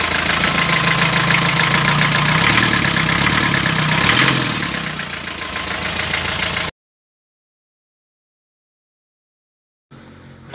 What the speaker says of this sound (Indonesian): Daihatsu Delta ini dipersenjatai dengan mesin diesel 2800 cc OHP.